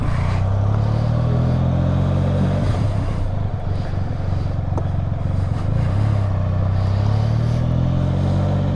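A Can-Am Spyder RTS three-wheeler rolling into a shop, its engine droning steadily at low revs with a rising and falling hum, close and loud, with some clatter partway through.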